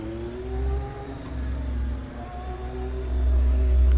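Ferrari SF70H 2017 Formula 1 car in the Assetto Corsa racing game at Spa, its engine note climbing and shifting through gears in rising whining revs, loud and steady with no talk.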